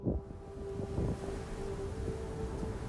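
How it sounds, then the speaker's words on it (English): Steady wind rushes and buffets against the microphone in a continuous low roar, with no voices, on the Pennine Way between Sill and Kirk Yetholm. "it's going to be quite windy, which I'm definitely feeling at the moment"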